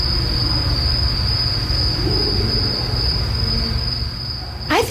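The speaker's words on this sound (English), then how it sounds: "Carl Nell recorded the sound in his backyard of what he envisions deep space would sound like" Crickets chirp in a steady, dense shrill in a backyard at night, recorded to evoke deep space. The chirping is continuous with a low background rumble, and a brief sweeping noise comes at the end.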